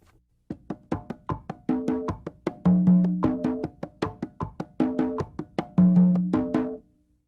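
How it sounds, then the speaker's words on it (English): Congas play a basic tumbao pattern in 2-3 clave, repeating steady slaps and open tones with resonant low open strokes, close and clear with no talking. "if you hear the congas playing this basic tumbao,"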